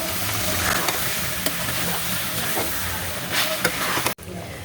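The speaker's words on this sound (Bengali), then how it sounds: "নেড়ে চেড়ে মশলার সাথে মাংসগুলো মিশিয়ে নেব।" Chicken pieces stirred with spices in a hot pan for chicken biryani, giving a loud, dense, continuous sizzle with scraping stirs, close by and uninterrupted until a sudden brief cut near the end.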